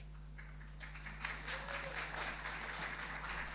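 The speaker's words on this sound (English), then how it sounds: "That's actually not the point, but sure, I take the applause." Audience applause in a crowd at a Carifesta gathering, clapping building after about a second and then holding steady as a dense, moderately loud wash over a constant low hum.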